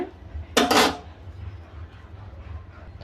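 A cooked egg omelette slid from a pan onto a plate, marked by one short, bright clatter of metal on crockery, followed by faint low background noise.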